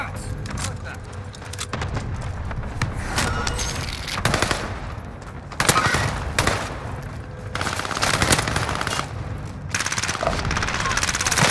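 Gunfire in a video game battle, with rapid automatic bursts and scattered shots going on for several seconds at a steady, fairly loud level, while players talk over it.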